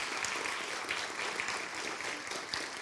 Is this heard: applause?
yes